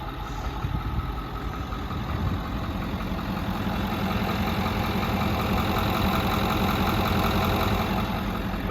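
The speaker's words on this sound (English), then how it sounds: "You can hear the engine, sounds great, very quiet." A 2010 Ford F-350 Power Stroke diesel utility truck fitted with a Miller Air Pak welder idles steadily, a low, even engine drone with a faint rhythmic knock that holds constant throughout.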